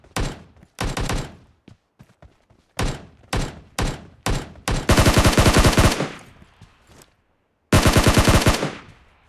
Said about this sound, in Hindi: एकदम से मुझे वापस फायरिंग की आवाज़ आने लग जाती है पीछे से